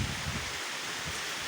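Strong wind and heavy rain lash very tall coconut trees in a storm, a steady, dense roar of rain and thrashing leaves that stays loud and unbroken throughout.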